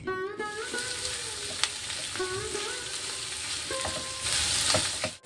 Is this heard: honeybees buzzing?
no